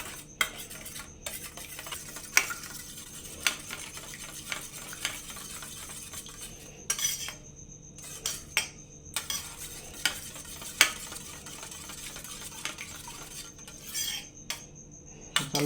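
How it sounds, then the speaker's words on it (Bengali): Eggs seasoned with Kashmiri chili powder are whisked in a bowl for egg do pyaza, a long run of quick, irregular metallic clicks and taps from a utensil against the bowl, close and fairly quiet, with a few brief pauses. "এটা একটু ফেটিয়ে নিব ডিমটা"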